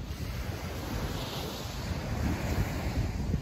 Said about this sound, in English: we're at Lalomanu Beach